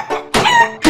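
Short squawking cries from birds in the Bird Assassin indie video game: three harsh, clucking calls in about a second, loud and close with brief gaps between them.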